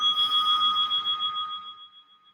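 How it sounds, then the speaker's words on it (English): A meditation bell is struck once, its clear ringing tone sustained and slowly decaying with a gentle pulsing shimmer as it fades toward silence. "use the vibration of the bell to fall more deeply within"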